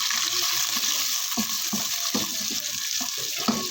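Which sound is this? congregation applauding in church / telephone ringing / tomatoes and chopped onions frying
tomatoes and chopped onions frying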